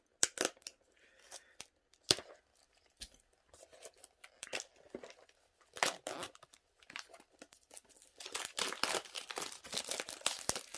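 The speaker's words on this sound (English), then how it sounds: "So, again, I'll just use the knife to open the plastic wrap." A knife slicing and tearing open the plastic wrap on a boxed 5x5 speed cube, heard as a string of sharp crinkling cuts and rips, close and fairly quiet, growing busier and more continuous toward the end.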